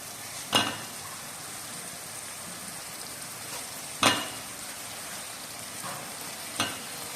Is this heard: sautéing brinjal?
yes